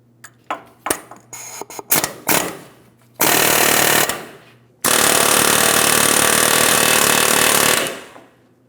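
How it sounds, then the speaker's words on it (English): A pneumatic air hammer with a specialty bit fires in short stuttering bursts, then runs in two long loud sustained hammering stretches, close up, driving out a front wheel bearing hub on a 2007-2014 GMC Sierra 2500 HD. "I'm going to be using my air hammer with a specialty bit on the end of my bolt"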